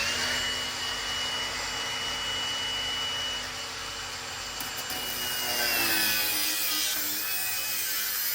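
A power tool saws steadily through a car trim piece during an F100 Escalade chassis swap, a loud continuous whining grind that holds for several seconds with slight shifts in pitch, with no talking.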